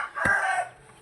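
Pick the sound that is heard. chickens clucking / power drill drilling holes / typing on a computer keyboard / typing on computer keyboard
chickens clucking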